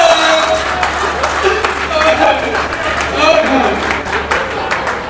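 Audience applause at a Hindi comic poetry recital, a sustained wash of many hands clapping loudly from a crowd, with voices and chatter mixed in throughout.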